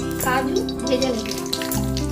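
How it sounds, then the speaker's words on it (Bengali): Cashews and raisins frying in ghee in a kadai give a soft, continuous sizzle with light crackles, heard close up beneath a steady tonal background hum. "এইভাবে আমি কাজু কিশমিশ ভেজে নেব।"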